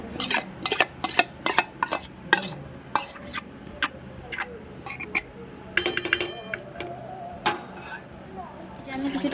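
Clinks and scrapes of a large dish bowl and utensils while fish curry is served, sharp metallic taps in an irregular rhythm, close up.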